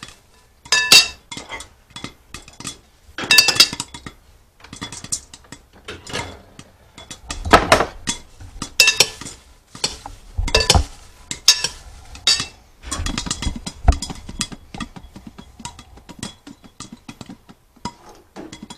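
Popcorn kernels with butter and salt tossed in a metal pot, sharp irregular clinks and rattling scrapes in bursts, close and fairly loud, with no talking.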